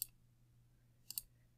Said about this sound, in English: You can just click